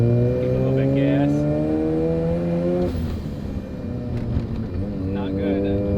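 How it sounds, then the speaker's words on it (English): A restored Mazda FC RX-7 rotary engine is given a little gas, its revving tone rising and falling in two sustained pulls, close and loud, with a voice speaking over part of it. "Give it a little bit of gas."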